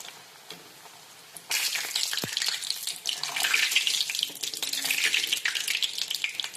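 Dough drops into hot oil and sets off a sudden, loud, hissing sizzle after a quieter start, then keeps bubbling steadily.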